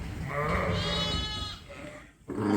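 Young Texel lambs bleat on a sheep farm, their calls drawn out, loud and close and repeating one after another, with no talking.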